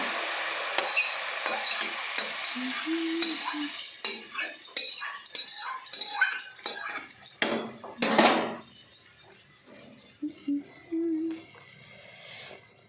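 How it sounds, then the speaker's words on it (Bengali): Lightly fried lentils tipped into a pot of hot water on a home stove for khichuri, giving a loud burst of hissing sizzle with clinks of utensils, amid intermittent speech and kitchen clatter. "এবার গরম জলে দিয়ে দিচ্ছে। বাপরে কি আওয়াজ!"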